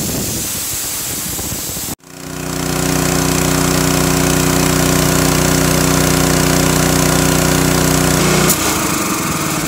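A Honda GX160 small engine briefly dips, then surges back up and holds a loud, steady high-RPM drone, with a slight change in pitch near the end.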